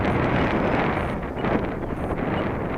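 Strong wind gusts roar across the microphone on a windy day at an outdoor flying field where a Timber X model plane is being flown, a steady, loud buffeting rush with no voices.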